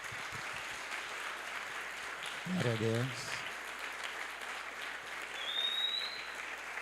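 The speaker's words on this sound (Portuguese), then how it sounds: "vamos dar uma salva de palmas para as nossas mães" A church congregation at a Sunday service applauds the mothers with sustained, moderately distant clapping, and a voice briefly speaks over it partway through.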